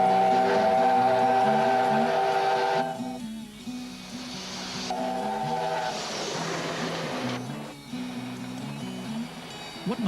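A steam train rumbles and clanks past at moderate distance on a still morning, with rhythmic chuffing and a held tonal hum fading in and out.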